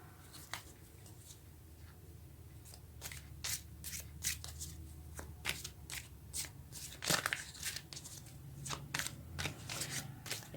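Tarot cards being shuffled by hand during a reading: a run of crisp riffling and slapping bursts, close and fairly loud, repeating irregularly over a low steady room hum, with no talking.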